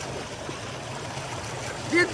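Steady, close rush of water flowing from a borewell, a continuous broadband splashing that holds even throughout with no pauses.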